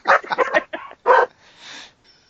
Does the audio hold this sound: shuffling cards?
no